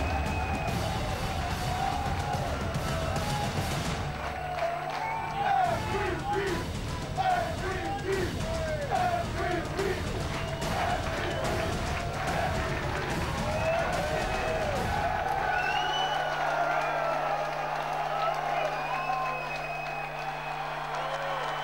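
A huge arena crowd roars and cheers nonstop as Dallas wins its first NBA championship in the 2011 Finals, with whoops and applause layered into a dense, loud wall of sound that drops back slightly midway.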